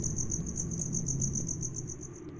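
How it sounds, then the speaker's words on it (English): Crickets chirp in a rapid, steady pulsing trill over a soft low background hum, close and continuous, as ambience in the video game Knytt Stories. "Crickets and noises."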